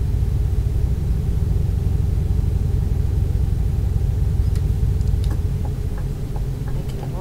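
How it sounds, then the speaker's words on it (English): Scania truck engine in Euro Truck Simulator 2, a steady low rumbling drone with a faint ticking, continuous and close throughout, with no talking. "Just love the new engine sounds."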